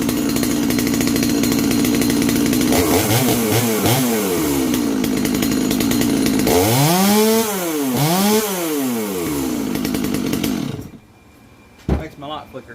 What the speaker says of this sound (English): I hadn't tried to start this thing today.